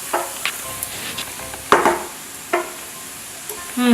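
Arborio rice sizzling in a pan while being stirred for butternut squash risotto with garlic and onions, a steady close crackle broken by several louder scraping stirs.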